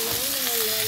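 Chicken pieces fry in oil in a pan at a village party, a steady close sizzle with a faint tonal hum running through the whole second, no voices over it.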